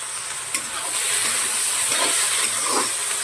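Tomatoes and coriander sauté in a pan for mutton gravy, giving a loud, continuous hissing sizzle with a few soft stirring knocks.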